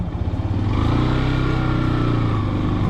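A Yamaha motorcycle being ridden, its engine a loud steady close drone with a slight rise in revs, heard alone without speech.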